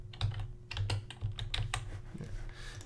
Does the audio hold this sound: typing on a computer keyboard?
yes